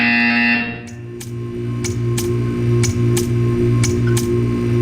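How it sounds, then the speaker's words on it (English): A loud, harsh electronic buzzer from the video game Portal 2 sounds in a rhythmic series of pulses, about one per half-second, over a steady droning hum, following a brief tone at the start, with no voices. "You will hear a buzzer."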